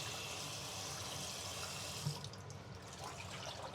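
A breast of lamb is rinsed under a running kitchen tap, water streaming steadily and close by, with the flow shifting and splashing partway through as the meat is moved beneath it.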